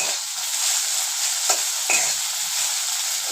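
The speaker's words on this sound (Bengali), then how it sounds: "এদিকে আমার ভেন্ডি ভাজা হচ্ছে" Okra (bhindi) fries in a pan with a steady close sizzle and hiss, broken by a couple of brief stirring scrapes.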